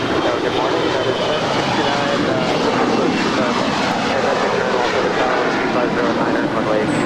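A jet airplane at Los Angeles LAX airport roars loud and steady as it passes, a broad sustained engine rush that fills the whole stretch without letup.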